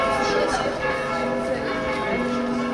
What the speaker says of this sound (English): all of the bells seem to be coming out of this tower